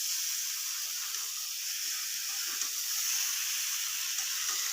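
Boiled vegetables (taro, eggplant, papaya, potato) fry in spices in a pan, giving a steady, close, bright sizzle that holds without a break and has no voices over it.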